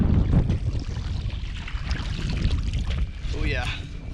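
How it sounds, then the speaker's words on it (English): Stout wind buffets the microphone out on open water from a 2020 Predator PDL fishing kayak, a continuous low rumble with water splashing and a short whistling voice near the end. "The wind's pretty stout right now."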